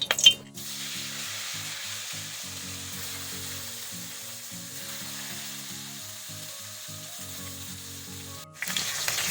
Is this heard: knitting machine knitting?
no